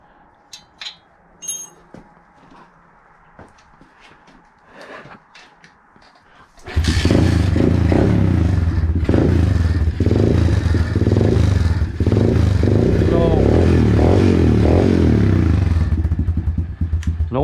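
An Apollo dirt bike fitted with a new exhaust fires up after a quiet stretch of light clatter, then runs loud and steady up close with repeated throttle blips and no pause.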